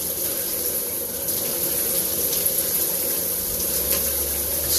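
Water runs and splashes steadily during hot and cold therapy, a continuous soft hiss like a shower or tap pouring close by, with no voices.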